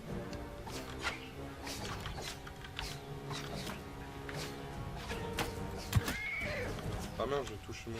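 A horse neighs in the video game Mount and Blade II: Bannerlord, a brief whinny rising out of game music and battle sounds, with French commentary over the top.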